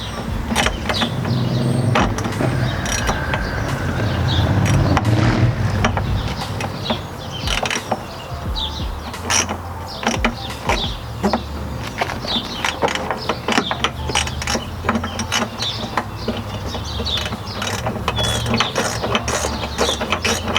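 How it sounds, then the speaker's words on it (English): A ratchet with a 10mm socket loosening headlight bolts on a Nissan Navara D40 King Cab, giving long runs of rapid, loud clicking close up, with brief pauses and a steadier mechanical whir near the start. "So again, just using a 10mm socket."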